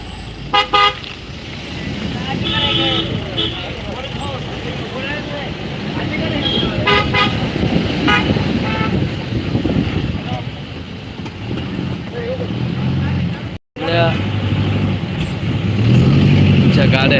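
Car horns toot repeatedly from a political convoy amid crowd noise and voices, with traffic rumbling throughout and a brief dropout near the end.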